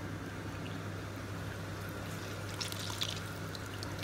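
Water trickles and drips faintly from soaked dahi vadas being squeezed out by hand, a soft intermittent dribble over a low steady background hum, with a couple of slightly louder splashes near the end.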